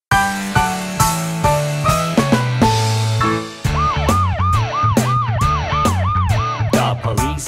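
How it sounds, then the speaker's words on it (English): A cartoon police car siren wails in a rising-and-falling pattern over a bright, bouncy kids' song with bass and percussion, loud and continuous through the second half. "The police car patrols the town and town."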